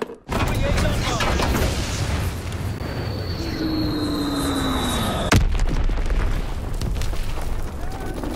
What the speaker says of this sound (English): Coming Azon bomb.